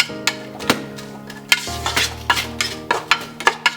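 Onion sautés with turmeric for a Ceylon cinnamon chicken curry, with sharp spoon taps and scrapes against the pan every half second over a soft sizzle and a steady background hum.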